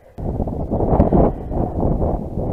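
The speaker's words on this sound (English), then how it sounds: "Man, those gusts are fast." Strong gusts of wind buffeting a microphone outdoors while bass fishing, a loud continuous rush that swells and eases after an abrupt start, with no talk.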